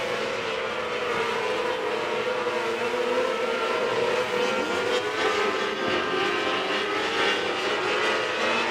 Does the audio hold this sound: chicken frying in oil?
no